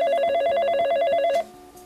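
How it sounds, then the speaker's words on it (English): A telephone bell rings in rapid repeated bursts, loud and close, then cuts off abruptly with a faint hum lingering after. "The phone's ringing."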